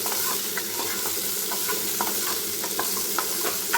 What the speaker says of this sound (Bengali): এখন আলুগুলোকে আমি একটু ভেজে নেব।